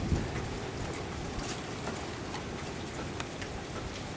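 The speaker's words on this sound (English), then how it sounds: "Feel the rain moving across the street" Steady rain falls across a street during a changeable storm, an even dense patter of drops with faint wind underneath, no voices.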